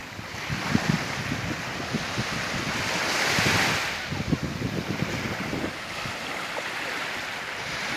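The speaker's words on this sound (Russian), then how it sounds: "Все, я приветствую и прощаюсь с Желтым морем сразу." Waves of the Yellow Sea wash continuously onto the shore, a loud, close, rushing surf with wind buffeting the microphone and no voices.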